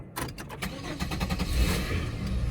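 A Chevrolet Monte Carlo engine cranks with a quick series of rhythmic starter pulses, then catches and settles into a close, steady idle.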